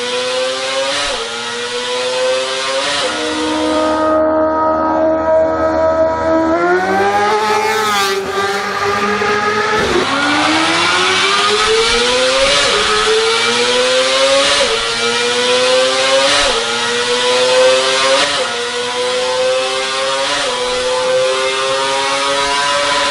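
Kawasaki Ninja ZX-25R four-cylinder sport motorcycle on a race track through corners at about 80 km/h, a loud high-pitched screaming engine rising and falling through gear changes and throttle, continuous with no talk.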